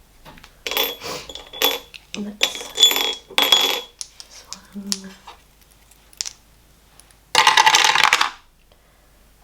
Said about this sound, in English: So do I just roll just a normal dice, I guess?